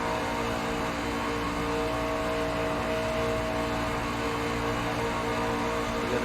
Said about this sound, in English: you can hear him just how much he's playing with that throttle